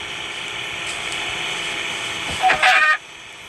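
A chicken in Minecraft being hit gives a short, bright, clucking hurt sound near the end, over a steady low background hum.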